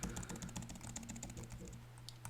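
Rapid clicking on a computer keyboard while a password is entered, a steady run of crisp keystrokes close to the microphone, quiet and with no talking.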